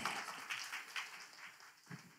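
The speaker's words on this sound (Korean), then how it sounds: "우리 박수 줍시다" Applause from a church congregation, soft and fairly distant, with several louder bursts of clapping rising and falling over about two seconds.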